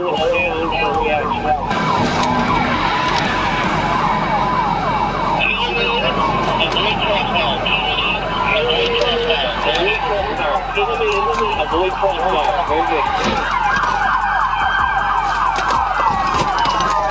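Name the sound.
police car siren during a chase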